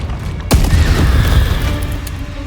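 Confringo and Depulso spells are cast in Hogwarts Legacy. After a short quiet lead-in, one sudden loud magical blast hits, and a rumbling, shimmering tail fades over the next two seconds.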